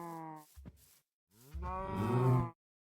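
Cows in the Minecraft GregTech: New Horizons modpack give two drawn-out moos, the second longer and deeper, close and clear with a short pause between.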